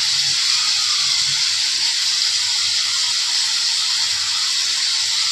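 Hilsa pieces going into a simmering mustard gravy give a steady broadband hiss and bubbling sizzle, even and moderately loud throughout, with no talking.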